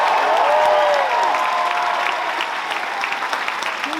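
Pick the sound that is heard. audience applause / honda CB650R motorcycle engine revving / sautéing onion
audience applause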